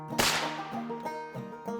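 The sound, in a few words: gunshot shooting a raccoon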